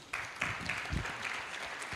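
An audience at a Lagos public dialogue event breaks into applause, a brief burst of clapping that starts abruptly and carries on at moderate loudness for a couple of seconds.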